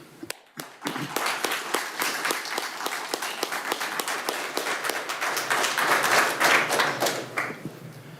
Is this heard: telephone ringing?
no